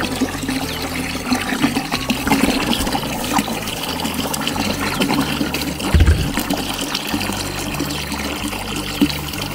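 MKP fertilizer solution mixed with 20 liters of water pours from a bucket onto the base of a durian tree, a steady, close splashing flow with gurgling surges and no voices.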